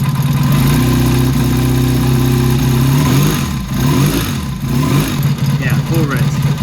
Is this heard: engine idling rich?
yes